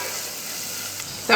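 Onions salted and frying in a pan hiss with a steady close sizzle, then squeezed tomatoes go in and the sizzle flares into a louder burst at the end.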